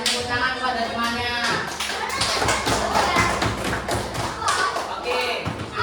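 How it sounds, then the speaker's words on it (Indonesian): Elementary classroom students clap for a fellow student group, a busy patter of small hands with thumps and taps, while children's voices chatter over the clapping. "Dikasih tepuk tangan kepada temannya."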